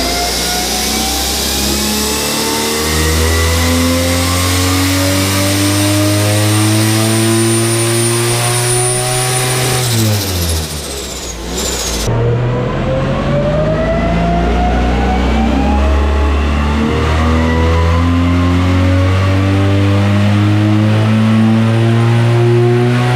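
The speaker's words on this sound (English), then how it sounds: "So we've just run the Kangaroos team cast manifold," A Toyota 1JZ-GTE turbocharged engine on a dyno with a cast exhaust manifold roars loud and sustained, engine note climbing through the revs, dropping briefly near the middle, then pulling hard again to the end.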